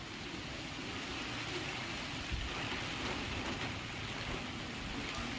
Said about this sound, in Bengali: তার সঙ্গে প্রচণ্ড বৃষ্টি হচ্ছে।